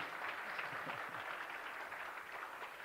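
A conference audience at the Nedbank Top Empowerment Conference gives a round of applause, a faint, even wash of many hands clapping across the room.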